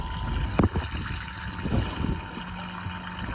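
A koi tank pressure filter pump runs at full power with a filter sock fitted, giving a low steady hum under soft trickling and bubbling water, with a couple of brief knocks near the start.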